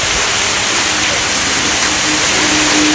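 Steady rain pours down in a dense, even hiss that never lets up, with children out in it walking home drenched.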